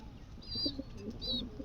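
Pigeons at a farm, including a pair of ghiya chandan birds with their young, give two soft, faint coos over a quiet background.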